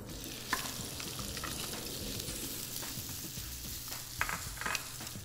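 Shrimp frying in hot oil in a pan sizzle steadily and close up, with a few sharp clicks and scrapes from the pan, and no speech.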